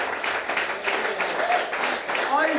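A church congregation claps together in praise, a dense continuous patter of many hands at steady loudness with no talk over it.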